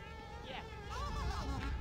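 A high, wavering insect buzz from a swarm of bees in Conker's Bad Fur Day, faint and brief, droning continuously over soft game sounds.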